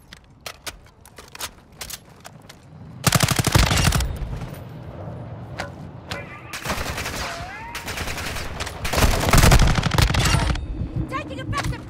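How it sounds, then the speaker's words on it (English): Gunfire rattles through a Call of Duty: Modern Warfare II match. Scattered single shots are followed by loud, sustained automatic bursts. Players talk over the shooting. "Taking effective fire."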